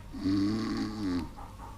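An old dog snores in an animated film, giving one long, loud, rasping inhale followed by a softer tail, close and alone with no talk.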